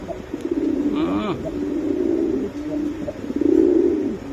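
Low, throaty cooing from Spanish pouter pigeons repeats in soft bursts, close by, with a brief higher chirp early on.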